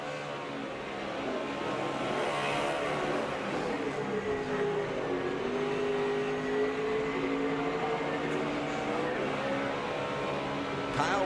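A loud, sustained roar of a NASCAR Camping World Truck Series race truck doing a burnout with tires spinning and smoking, whining, shifting tones, heard from a distance amid constant crowd and track noise.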